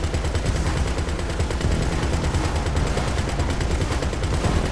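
A vehicle turret fires nonstop in GTA 5 Online, a dense rapid stream of gunshots forming a loud, even rattle across the whole stretch, with no voices over it.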